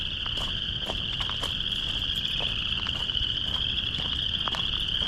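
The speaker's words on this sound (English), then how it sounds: "There's lots of fucking frogs down there." A dense chorus of frogs calls near a trail at night, with a steady high-pitched trilling and scattered croaks and clicks, loud and continuous without any talking.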